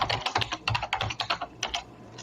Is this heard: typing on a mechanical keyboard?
yes